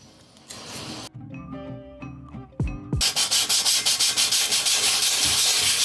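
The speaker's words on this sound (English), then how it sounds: "I'm gonna sand this with sandpaper just to make it a little bit rough." Sandpaper rubbed over a Stanley tumbler to roughen its painted surface, a loud, close, steady scratchy rasp in fast back-and-forth strokes, following an earlier quieter stretch of handling noise.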